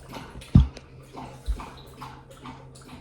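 A dog drinks water indoors, with soft wet lapping and sloshing at close range and a couple of dull thumps against the bowl.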